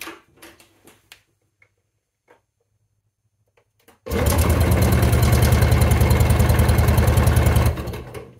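The two-stroke engine of an NSU Prima scooter, throttle wide open, cranks on its electric starter during a compression test: a few faint clicks and taps, then about four seconds of loud, even, rapid churning that cuts off abruptly.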